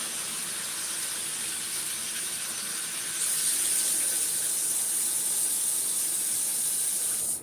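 Lettuce rinsed under a running kitchen tap, giving a steady close rush and hiss of water that carries on throughout and grows slightly louder partway through.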